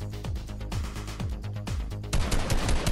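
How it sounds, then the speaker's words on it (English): Gunfire in the battle royale video game Fortnite: bursts of rapid automatic shots in quick rhythmic succession, loud and close, ending in a denser volley of fire. "I just heard gunfire."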